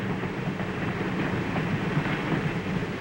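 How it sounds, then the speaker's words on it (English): A huge locomotive pulls a passenger train into motion slowly through railroad yards, a dense, steady rumble of rolling wagons with faint clickety-clack, continuous and close throughout, no voices. "The huge locomotive sets the train in motion"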